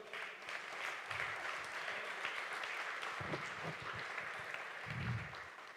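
A church congregation applauds in a steady, dense wash of clapping, heard from a distance and fairly faint, running the whole length with no talk over it.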